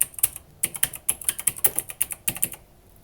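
Fingers typing a search term on a computer keyboard, a brisk run of light, close key clicks in an uneven rhythm for about three seconds, with no talking.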